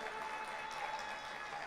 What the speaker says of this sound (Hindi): आप लोग सुनना चाहते हैं तो एक बार जोरदार तालियां बजाकर मुझे मन दे दीजिए